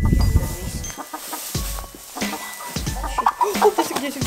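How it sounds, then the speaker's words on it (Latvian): A chicken clucks close by in a string of short, throaty calls with brief pauses between them. "Jā, vistiņa."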